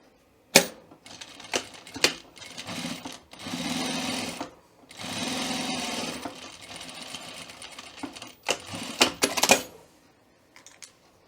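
A sewing machine stitches a welt pocket seam in several bursts of fast, even chattering, separated by brief pauses and sharp clicks and knocks of handling, close and clear.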